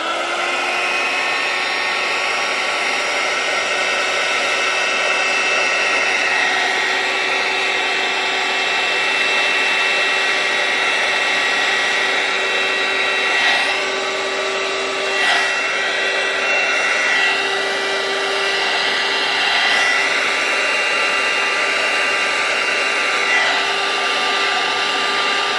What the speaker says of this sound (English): I just got my heat gun and I'm just going to go over it just gently